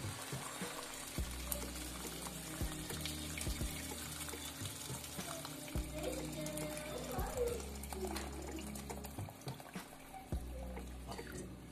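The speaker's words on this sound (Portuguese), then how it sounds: "Água quente." Hot water pours from a kettle into a cooking pot of beans and dried meat, giving a continuous gurgling splash over a steady low hum of kitchen background noise.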